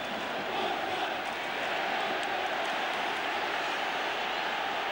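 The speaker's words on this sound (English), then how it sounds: "Neville Southall gets a round of applause in the National Stadium for the 5th important stop" Applause from a large crowd in a national stadium greets a goalkeeper's save at a 1991 football match, a steady, dense wash of clapping and crowd noise heard from a distance without letup.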